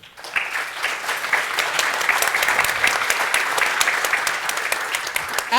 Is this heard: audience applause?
yes